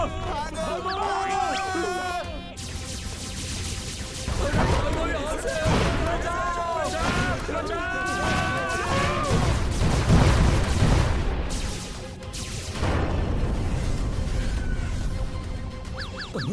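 Cartoon battle as a huge attacking spaceship fires, bursts of crashing explosive blasts and booms repeating through the scene, mixed with excited animated character voices talking and shouting over the barrage.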